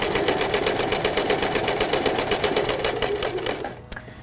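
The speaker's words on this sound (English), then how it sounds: "So I'm going to put my fabric in, and then I'm going to sew all the way down again." A sewing machine runs fast through fabric in a rapid, even stitching rhythm for about four seconds before stopping with a small click, close and alone.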